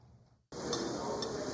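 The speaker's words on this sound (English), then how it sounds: "The grills are sizzling and the yummy smell of fresh burgers are filling the air." Fresh burgers sizzling on restaurant grills during a burger week event, a steady, dense frying hiss that starts abruptly after a brief quieter moment and holds loud and continuous to the end, with faint clinks of utensils.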